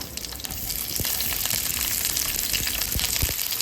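Sliced onion and mustard seeds fry in hot oil in a pan, giving a steady, fairly loud sizzle with scattered crackles and pops throughout.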